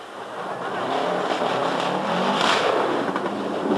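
Subaru Group N rally car racing along a gravel rally stage in France in 1998, engine rising and revving loudly as it approaches and passes, with no talk over it.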